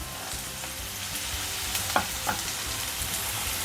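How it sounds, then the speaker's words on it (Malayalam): Beans and carrots stir-fried over a high flame for egg fried rice hiss in a steady sizzle, broken by a few sharp scrapes of the spatula against the pan, with no talking. "ബീൻസ്, ക്യാരറ്റ് ഇതൊന്ന് നന്നായിട്ട് ഇളക്കി കൊടുക്കണേ. നല്ല ഹൈ ഫ്ലെയിമിൽ വെച്ചിട്ടാണ് നമ്മളിത് ചെയ്യുക."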